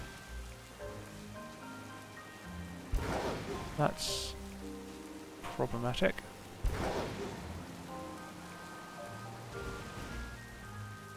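Rain in the Pokemon Violet video game, a steady soft patter running throughout at moderate level with some louder game sounds mixed in, while a player talks over it.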